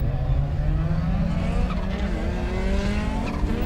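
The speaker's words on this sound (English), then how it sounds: "Got overexcited, missed the gear, revved the engine, the clutch pedal stuck to the floor" A Toyota Supra race car misses a gear at the start and its engine revs hard with the clutch pedal stuck to the floor. The loud, continuous engine whine climbs in pitch over a rough background of track noise and tire scrub.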